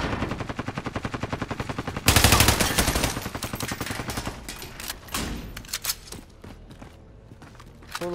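Rapid automatic gunfire in Call of Duty: Modern Warfare Resurgence mode, a fast steady rattle of shots that swells into a louder, denser burst, then thins out into scattered shots and clatter.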